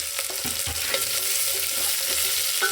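Onions frying in a pan for avarekalu usili, a steady close hiss of sizzling oil with a few soft knocks of a spatula early on, no speech.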